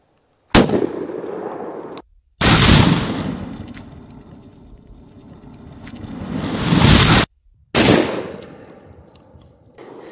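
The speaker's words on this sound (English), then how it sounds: "I'm going to try this 3-inch turkey load, see if it does any better with these shoulder bruisers" Three loud, sharp blasts from a Citadel Warthog 12 gauge shotgun fired outdoors with 3-inch turkey loads. Each booming report is followed by a long, rolling echo, with short gaps between the shots.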